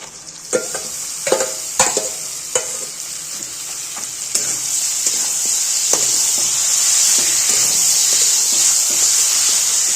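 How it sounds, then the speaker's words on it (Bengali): Marinated mutton dropped into a pan of browned onions, a loud steady sizzle building and spreading across the whole stretch, with sharp spoon-scrape knocks early on and softer stirring clicks later; no voices. "এবার আমি এর মধ্যে এই যে মেখে রাখা মাটনটা এর মধ্যে ছেড়ে দেব"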